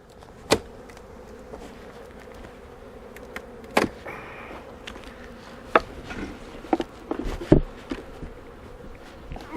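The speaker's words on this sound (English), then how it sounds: "look at those bees going in there already" Honey bees buzz steadily around hive boxes during a honey harvest, with a constant droning swarm and a few sharp knocks and thumps from handling the boxes.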